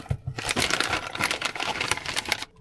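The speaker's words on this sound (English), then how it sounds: "Some electrical tape." A roll of electrical tape is handled up close while a dashboard screen kit is unpacked for a Tesla, giving a steady run of crisp crinkling and rustling for a couple of seconds before it stops.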